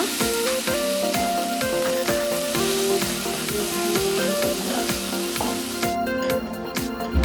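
Ground tomato stirred into a sizzling kadai of chicken masala, a steady hiss with scraping spoon strokes throughout, close and fairly loud, no voices.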